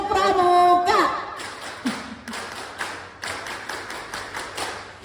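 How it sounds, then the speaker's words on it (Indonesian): A church congregation claps together in the Scout-style tepuk pramuka pattern, sharp rhythmic bursts of group clapping in short sequences, following a brief sung or spoken lead-in. "Coba kita semua tepuk pramuka."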